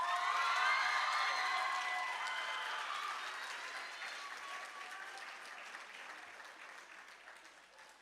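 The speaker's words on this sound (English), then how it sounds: "I ask the audience to give a resounding round of applause to Miss Luella Bernard" An audience at a junior school graduation ceremony breaks into a loud, sustained round of applause that gradually thins and fades over several seconds.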